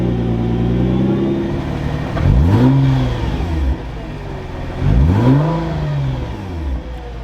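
An R35 Nissan GT-R engine with high flow fuel pumps idles steadily, then revs sharply twice, each rise climbing and falling back to a rumbling idle.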